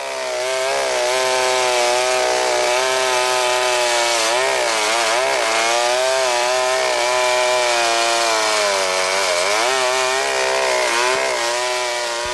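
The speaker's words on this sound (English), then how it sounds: "this man pulled the starter on a chainsaw, and this chainsaw started ripping the horn off his face" A loud chainsaw runs steadily close by as it cuts the horn off a sedated rhino in Africa, its engine whining and shifting pitch as the blade bites.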